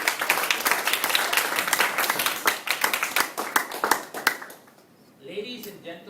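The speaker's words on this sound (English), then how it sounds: "give him a round of applause" An audience at a Toastmasters club meeting claps for a speaker being welcomed on stage, a dense burst of applause that tapers off into someone talking.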